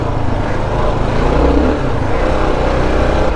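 Dirt bike engine drops a gear on a slick ATV trail at Evangeline, Prince Edward Island, a steady close motor drone with a slight swell in revs midway, no voices.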